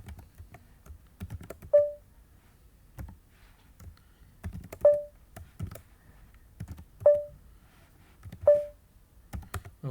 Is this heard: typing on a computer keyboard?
yes